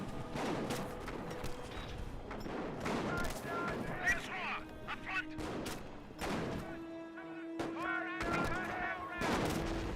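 Rifle and machine gun fire in a Company of Heroes 1 battle replay, with repeated sharp rifle cracks and rattling bursts, some distant and some close, under someone commentator's steady talk.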